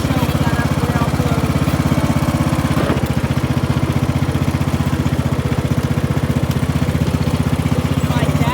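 A riding lawn mower's small engine runs steadily the whole time with a loud, close, even drone and a brief bump partway through. No one speaks over it.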